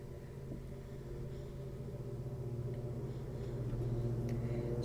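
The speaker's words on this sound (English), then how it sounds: "Sorry if you hear any background noise. That's just my dad mowing." A lawn mower engine drones steadily in the background, a low continuous hum that grows slightly louder toward the end, with no talking.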